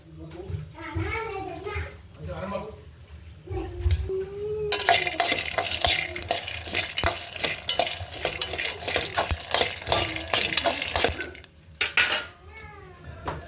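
Chana dal and green chillies fry in hot oil in a kadai, a loud broadband sizzle under heavy clattering of a spoon against the pan. Brief talk comes before it.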